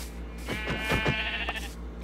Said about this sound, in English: Oh, already found some sheep.